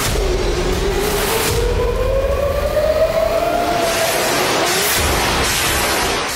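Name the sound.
air raid sirens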